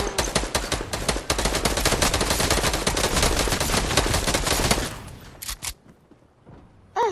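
Rapid automatic gunfire from the video game Fortnite rattles loud and close in dense bursts for several seconds, then stops abruptly, leaving a few scattered shots and thuds.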